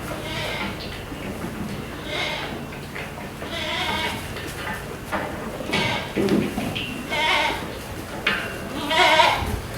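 Goats and young kids bleating on a farm, several overlapping calls repeating at irregular intervals, some near and loud, others fainter, over a noisy outdoor background.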